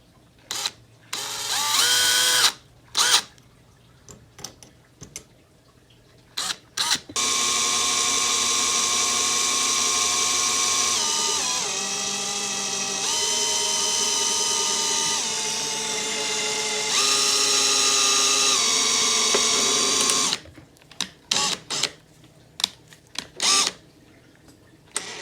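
A drill working out broken aluminum bolts on a Honda CBR motorcycle runs as one loud, steady whine of about ten seconds, with its pitch shifting, between short clicks and brief handling bursts.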